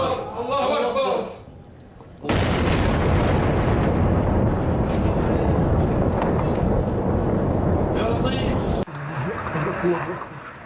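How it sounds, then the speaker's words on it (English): Explosions from rocket strikes in a suburb near Damascus: a long, loud, roaring blast rumble lasts several seconds, with voices shouting before and after it. "The explosions rocked a suburb of the capital, Damascus, overnight."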